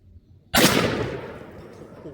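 A single loud shotgun blast fired at 20 yards while patterning for turkey season, sharp and close, with a boom that decays over about a second and a half outdoors.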